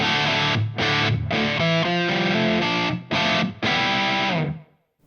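Electric guitar played through a JHS Muffuletta fuzz pedal on a distortion setting: loud, saturated chords strummed in bursts with brief gaps, ending in a sustained ring that fades out.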